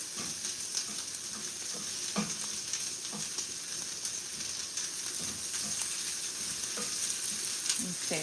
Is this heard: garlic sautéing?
yes